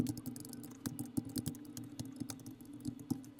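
Typing on the keyboard of a reMarkable 2 tablet, a quiet close run of irregular key clicks with a few sharper taps, heard alone.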